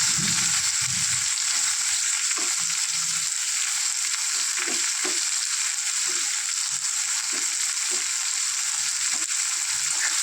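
Chopped onion sizzles in hot oil with whole spices and dried red chillies, a steady bright frying hiss with soft occasional stirring taps, close and continuous.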